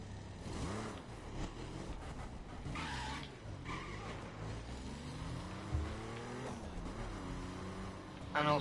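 A Hummer in The Crew racing game rumbles along with its engine droning while the tires squeal and skid, the pitch rising and falling through a long run, and a sharp burst comes at the very end.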